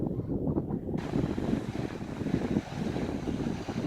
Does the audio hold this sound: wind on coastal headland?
yes